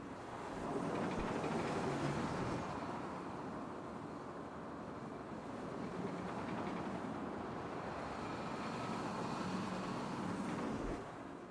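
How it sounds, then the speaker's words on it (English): Roller coaster train rolling along its track in the Planet Coaster park-building game, a steady continuous rumble of wheels with faint screeching, sustained at moderate level throughout with no talking. "You can hear the wheels like in the track and the train kind of like screeching when it's going."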